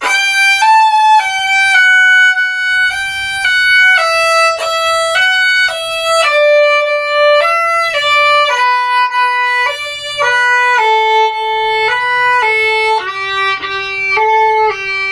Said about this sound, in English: So if I were to play through all that slow but consecutive, it would sound like this.